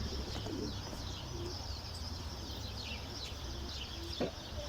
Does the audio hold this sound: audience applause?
no